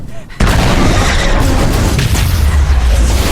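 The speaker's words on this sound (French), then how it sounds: "ce qui provoque l'explosion du vaisseau" A spaceship explodes after its fuel tank is hit in the film Alien: Covenant: a sudden loud blast breaks a short quiet and rolls into a sustained, heavy rumble.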